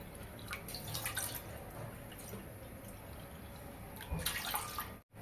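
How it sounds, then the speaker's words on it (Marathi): Water is poured steadily from a small bowl into a pot on a gas stove, a continuous splashing stream with brief louder bursts, no voices. "त्याच वाटीने इथे मी आता पाच वाटी पाणी घेणार आहे"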